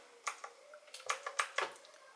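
Keys clacking on an Azio Retro Classic Bluetooth keyboard, a handful of crisp, close taps in an uneven rhythm with short gaps, heard alone without talk.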